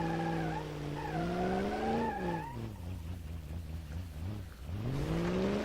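A car in BeamNG Drive spins out on an endurance ring, tires squealing in long wavering tones over the engine's revving, loud and close, then the engine note dips and climbs again as it recovers.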